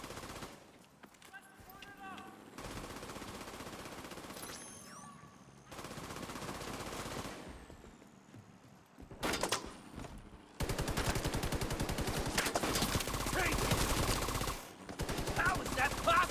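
The Nemesis weapon firing in a video game: loud bursts of heavy, rapid gunfire come in separate blocks broken by short quiet gaps, with a long sustained barrage late on and a brief pause before it resumes.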